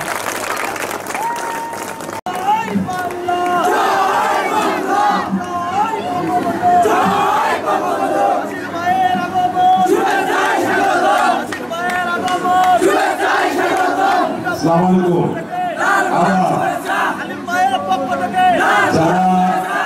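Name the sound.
crowd applauding and cheering at electricity inauguration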